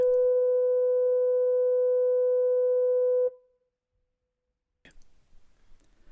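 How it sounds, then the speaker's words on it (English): A steady, higher-pitched electronic fog signal tone from Portland Bill Lighthouse, with a hum of overtones, sounds for about three seconds then cuts off, followed by silence and faint clicking noises. "It had been superseded by a higher-pitched electronic signal with a much reduced audible range."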